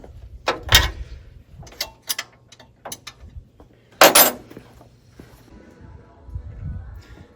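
A ratchet works loose bolts on the engine of a 1981 Chevy C10, giving scattered bursts of close mechanical clicking and clattering with short quiet gaps between them.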